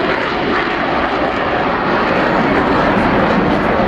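French Navy Rafale jets roaring overhead at the Yeovilton air day, a loud continuous engine rush that holds steady for the whole stretch with no voices.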